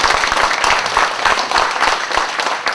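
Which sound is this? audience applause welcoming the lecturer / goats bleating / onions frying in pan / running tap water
audience applause welcoming the lecturer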